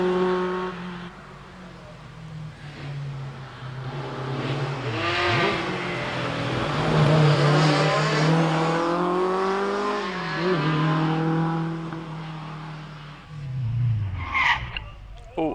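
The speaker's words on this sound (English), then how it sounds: "off goes Johnny Helm in the Alpine Renault A110" Alpine Renault A110 rally car launching into a hillclimb run at Prescott, engine revving hard and rising in pitch as it pulls away, with an announcer talking over it.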